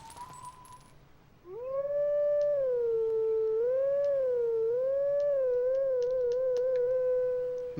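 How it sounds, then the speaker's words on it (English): Wolf Link howls at a howling stone in the video game Zelda: Twilight Princess: a long, clear, wavering howl that rises and dips in pitch, following a brief chime, with faint game ambience underneath. "What kind of annoys me the most about this howling thing is with these stones."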